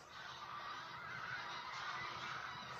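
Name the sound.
geese honking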